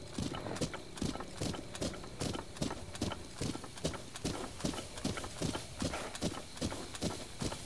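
Horse hooves clip-clopping in The Legend of Zelda: Breath of the Wild, a quick, even trotting rhythm of many hoofbeats that continues steadily throughout at a moderate level.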